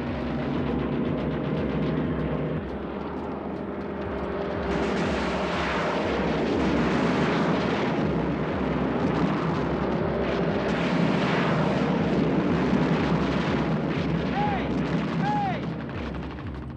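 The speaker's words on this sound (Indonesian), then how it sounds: "sebuah pesawat sekutu melanglang melakukan serangan" Allied military aircraft on an attack run, a dense, loud engine roar droning steadily for the whole stretch, mixed with rumbling blasts and rattling gunfire in a war scene.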